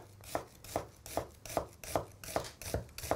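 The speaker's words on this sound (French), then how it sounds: "Je récupère mon oignon que je vais venir émincer finement, bien finement." A knife finely slices an onion on a cutting board, eight crisp, evenly spaced chops in a steady rhythm, close and fairly quiet, with no voices.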